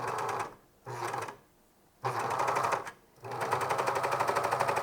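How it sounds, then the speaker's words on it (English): A serger overlocker stitches turtleneck fabric in loud, rapid mechanical bursts, running in three runs separated by short pauses, close and alone. "I serge one last time to get all these bits and bobs on"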